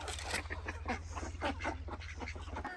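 Ducks and geese honk and quack busily close by while eating corn cobs, a dense, continuous chorus of calls over a low steady hum.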